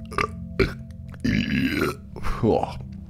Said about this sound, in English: Here comes another burp